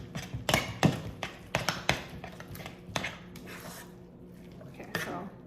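Ingredients for a cheesy hashbrown casserole being stirred in a glass measuring cup, with repeated close taps and clinks of a utensil against the glass in an irregular rhythm, fading to a softer scrape near the end.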